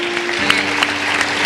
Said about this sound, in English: One last applause for the students from West Elementary.